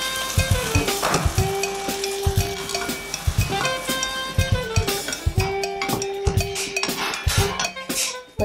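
Chicken frying in ghee in a pan, sizzling steadily while a utensil scrapes and clanks against the metal in repeated stirring strokes, close and fairly busy.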